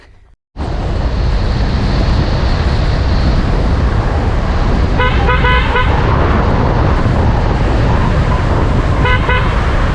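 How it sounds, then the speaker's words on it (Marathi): A car drives along the Dabhol–Dapoli state highway toward Kolthare beach in Kokan, steady loud road and engine noise throughout, with a couple of short bursts of horn honking from traffic nearby. "चला आता निघूया आपण आपली कार घेऊन बीचकडे"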